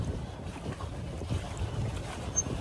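A pedal boat with two people aboard moves on flowing water, giving a low, continuous churning rumble with soft wind noise, fairly faint and steady, with no talking.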